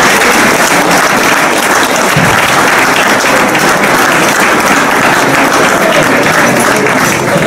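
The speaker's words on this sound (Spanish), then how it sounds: "un fuerte aplauso para ellos" Loud, sustained applause from an audience at a historical fencing reenactment in Almansa, steady dense clapping filling the whole stretch with no pauses.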